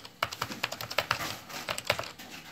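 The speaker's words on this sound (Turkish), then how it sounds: "Yalnız şu klavye sesini seviyorum ya," Keys clatter on an old computer keyboard, a quick series of loud, solid clicks close up, slowing briefly before a final few taps, with no voices.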